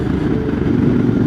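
A QJ Motor SRT 600 SX midsize road trail motorcycle rides through bends, its engine giving a steady, loud, close-up mid-range drone with no pitch change and no speech.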